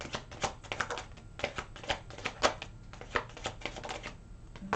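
Tarot cards are shuffled and drawn in a string of quick, close, crisp flicks and taps, irregular and snappy, with no talking.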